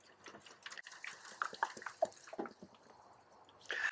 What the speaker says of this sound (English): To that, we're going to add 2 liters of Dr. Pepper.